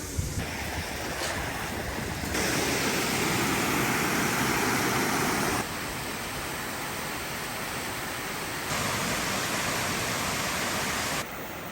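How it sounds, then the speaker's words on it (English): Constant roar of a waterfall in New Zealand, broad and steady, with the level shifting slightly partway through; no one speaks. "Made it to another waterfall."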